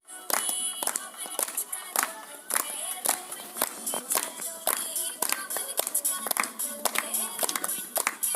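Audience applause at a rural poetry gathering in Sonbhadra, Uttar Pradesh: irregular bursts of hand claps, some sharp and close, spread through the whole stretch without any talking over them.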